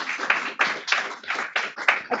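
Staff at an all-staff town hall meeting clap in brisk, fairly even bursts, a small group's applause close by with no talking over it.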